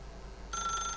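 Telephone in the video game The Stanley Parable starts ringing midway, a bright electronic ring cutting in over a low ambient hum, loud and close with no speech.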